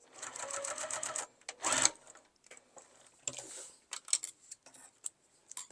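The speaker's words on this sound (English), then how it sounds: "Then you're going to turn, and you're only going to sew on the nylon on your lining." Sewing machine stitching the nylon and lining of a small key chain zipper pouch, a fast close mechanical whir in short bursts with pauses and small handling clicks between runs.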